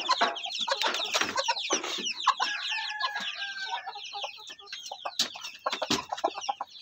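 A mother hen clucks close by in a rapid, busy run of short calls, with a rooster crowing in the background. The sounds come from a backyard nest area early in the morning.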